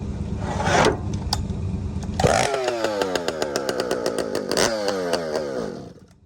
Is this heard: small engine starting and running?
yes